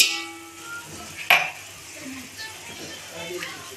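Pav bhaji masala and ginger-garlic paste being stirred in a pan, a soft frying sizzle with a sharp spoon clink on the pan partway through, while a voice talks quietly in the background.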